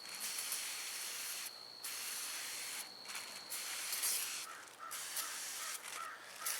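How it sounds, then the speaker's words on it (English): Cooking oil is sprayed into a cast iron skillet being seasoned, several long, close aerosol hisses separated by brief gaps. "I'll just spray it directly in there"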